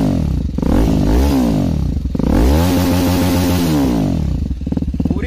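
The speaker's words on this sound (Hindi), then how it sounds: "यहाँ पे देख सकते हो एग्जॉस्ट को हमने चेंज करा लिया है।" A TVS Apache RR 310 motorcycle fitted with an aftermarket exhaust revs loudly and close by, with several throttle blips that rise and fall between steady idle stretches.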